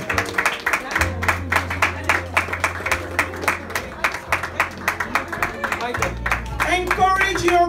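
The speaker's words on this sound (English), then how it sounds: "Please, let's clap for them as they come." An audience at a children's annual award ceremony claps in a steady rhythm, with music running underneath and a few louder bursts near the end.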